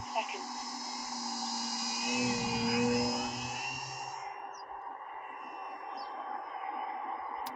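An E-Flite Maule M7 RC bush plane's electric motor whines steadily in flight, its pitch sagging briefly as the throttle eases before settling into a lower, even drone.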